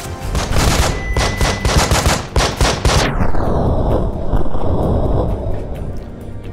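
A flashbang and gunfire in the video game Breach & Clear: a rapid string of loud, close gunshots for about three seconds, then a bright concussive blast with a long ringing decay tail.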